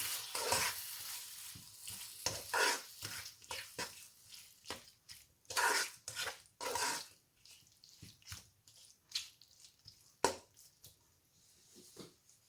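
Tomato and salt are stirred into parwal curry in a hot pan, with repeated soft scraping and squishing strokes over a faint sizzle, close and fairly quiet, in irregular bursts with pauses between.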